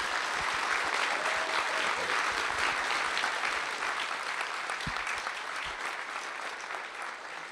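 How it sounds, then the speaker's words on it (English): Sustained applause from a conference audience honoring engineers at a high performance computing event, dense and steady clapping that slowly fades toward the end. "can you all give them a round of applause?"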